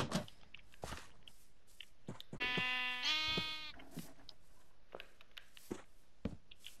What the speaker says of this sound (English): All right guys, I got 2 sheep.